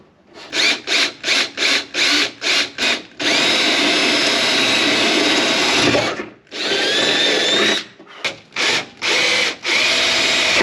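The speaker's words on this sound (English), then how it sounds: "this is easier to drill here and then pry off than try to drill out the center there" A power drill bores out a part on a vintage Porsche 911 Targa rebuild, starting with a rapid run of short bursts, then long steady whines, then more quick pulses, loud and close with no talking.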